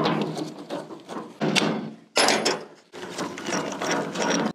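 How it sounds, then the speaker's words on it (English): Metal clanks, scrapes and ratcheting clicks while a PTO shaft is worked off a brush hog gearbox, close and loud in several separate bursts with brief gaps. "The first thing I gotta do is get this PTO shaft off."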